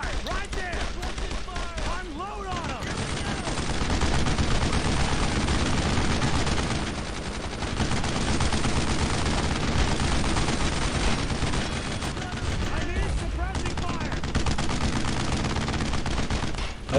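Sustained gunfire from the World War II shooter Brothers in Arms: Road to Hill 30, dense bursts of rifle and machine-gun fire running loud and nearly nonstop, with shouted voices over the battle.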